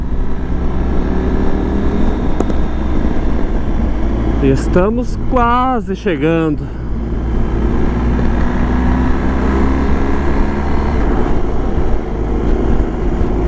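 Several motorcycles, among them BMW GS 1250 Adventure bikes, riding together in a large group on the road, a steady engine and wind drone throughout, with someone speaking briefly over it midway.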